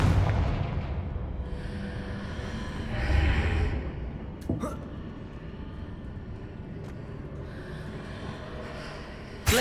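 A fiery Confringo spell explosion from the Hogwarts Legacy game on PS5 lands as a deep rumbling boom that swells and fades, followed by a sharp crack and a lingering low roar.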